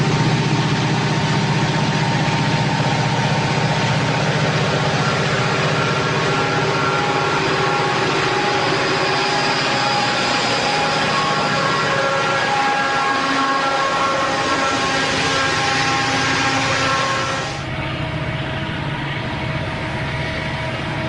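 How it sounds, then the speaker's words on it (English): Southern Pacific diesel locomotives, tunnel motor 8380 doing most of the work with a faltering 4411, haul a loaded ballast train upgrade at Heather on the Cascade line in 1996. A loud, continuous, nearby engine roar drones on and eases slightly near the end. "At Heather, we find Work Extra C1 struggling upgrade with a loaded ballast train."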